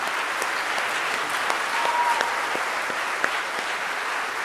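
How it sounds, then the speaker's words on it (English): Audience applause for a high school concert orchestra fills the hall, with a steady dense wash of clapping that holds at an even level throughout and has no voices over it. "Another round of applause for Concert Orchestra."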